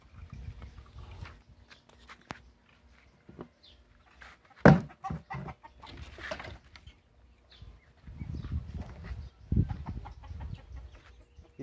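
Farm ducks give scattered, fairly faint calls and quacks outdoors, with one sharp louder cry midway and low rumbling noise in between.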